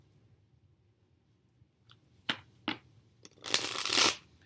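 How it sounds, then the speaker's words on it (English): A deck of tarot cards being shuffled: a few soft riffle clicks and snaps early on, then a loud, dense burst of shuffling close by near the end, with no talk. "These cards are very stubborn right now, like they're not wanting to shuffle."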